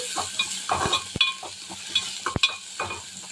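Masala for a crab gravy fries in a pan under repeated stirring: a spoon scrapes and clacks at an uneven rhythm over a low, constant sizzle, close and clear.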